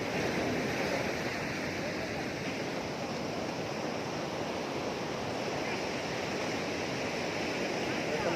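Sea waves at Sonapur beach make a constant roaring wash of surf mixed with wind buffeting the microphone, steady and fairly loud throughout.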